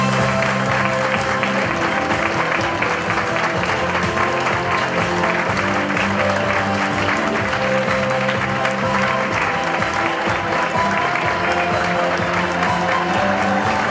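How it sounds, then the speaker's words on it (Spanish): Sustained, dense applause fills a hall at a national living-statues contest and awards show, a large crowd clapping steadily and loudly throughout. "Un fuerte aplauso para él."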